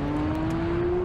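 A Tesla launches off the start in a race, giving a rising electric whine with a steady tonal hum, loud and close over a short burst.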